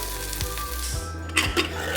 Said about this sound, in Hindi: भिंडी थोड़ी अच्छे से फ्राई हो जाए, लो फ्लेम पे हम इसे धीरे धीरे फ्राई करेंगे।